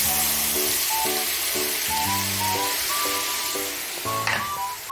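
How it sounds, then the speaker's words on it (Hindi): Mustard, garlic and chili paste sizzles in hot oil as a tempering for a drumstick vegetable dish, a close crackling hiss with intermittent tonal clinks and stirring, briefly flaring near the end. "मैंने सहजन की भी सब्जी में तड़का लगा दिया है"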